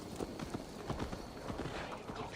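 Horse hooves clip-clop in Assassin's Creed Valhalla in a steady, quick rhythm on a hard surface, fairly close, with no talking.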